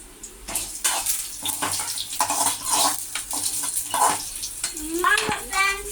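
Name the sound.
frying ingredients for carrot chutney in a pan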